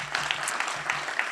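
Audience applause at a memorial lecture on prose poetry, a broad steady wash of clapping from a seated crowd with a few sharper individual claps standing out, lasting just over a second.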